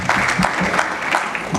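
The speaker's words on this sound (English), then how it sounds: "Yes, give yourself some applause," An audience at a Diwali gala claps in a brief, steady round of applause, dense and moderately loud with a faint murmur of voices beneath.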